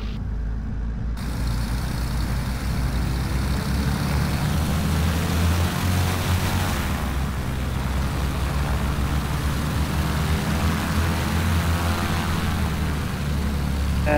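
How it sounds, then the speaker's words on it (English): An aircraft taxis out at Oshkosh airport during the departure rush, a steady low engine rumble and drone, heard continuously from nearby with no talking. "We're gonna taxi out, leaving Osh."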